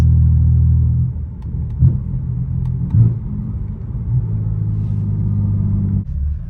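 A BMW F80 M3 with a DCT gearbox on the road, a low steady cabin rumble of the engine and tires with slight shifts in pitch as it drives along.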